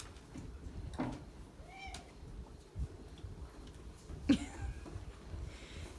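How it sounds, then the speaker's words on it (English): A pet cat named Clover gives a couple of brief, faint meows in a quiet indoor setting, with low background rumble and small knocks around them. "And we have Clover, the world's cutest kitty cat. Meow."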